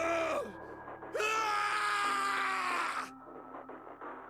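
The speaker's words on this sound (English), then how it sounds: "His scream echoed through the incineration chamber, full of rage and despair." A long anguished scream in the Zero Escape 999 video game, echoing through an incineration chamber: a short cry, a pause, then a sustained loud rising wail of rage and despair that cuts off abruptly, leaving a low rumble.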